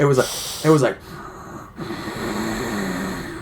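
A voice imitates her sister's loud sleep breathing, just short of a snore, with raspy snorting inhales and wheezy exhales, close and loud, following a brief bit of talk.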